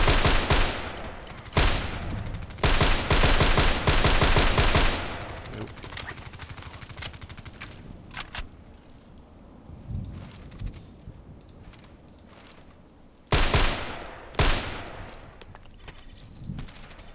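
A loud player weapon in a shooter game fires several sharp bursts of automatic fire near the start and again later, with quieter stretches of distant shots and background ambience between them.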